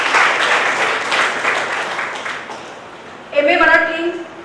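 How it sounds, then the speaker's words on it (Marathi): An audience at a college foundation day prize ceremony claps in loud, dense applause that gradually fades, and a speaker's voice then begins over the last of it. "जोरदार टाळ्या"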